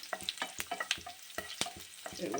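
Dried red chillies and onions fry in hot oil in a pan, giving a soft sizzle broken by light scraping and stirring clicks. The sound is quiet and close, with no speech.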